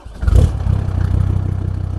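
An old, high-mileage Mercedes C250 turbodiesel fitted with a truck turbo coughs into life close by with a clattering burst, then settles into a rough, rapid pulsing idle, loud and steady.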